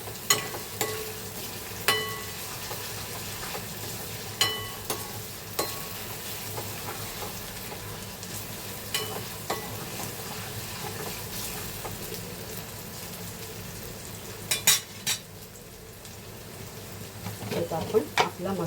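Garlic fries and sizzles in a pan in a home kitchen, stirred now and then with a spoon that gives sharp scraping clicks against the metal over a steady background hiss.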